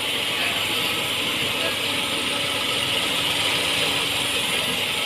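Hyundai Eon car engine idling with the air conditioning on and no knocking, a steady even hum with a constant broadband hiss of fan noise, continuous and close, no talking.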